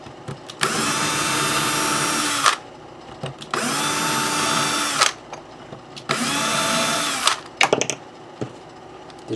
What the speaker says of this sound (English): Okay, none of the screw holes line up very good. So we're just going to drill a couple new ones.